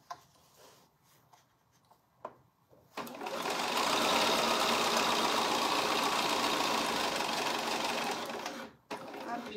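A Bernina sewing machine stitches a tote bag near a strip of skin tape, with quiet handling sounds first and then a loud, steady run of the motor for about six seconds before it stops abruptly.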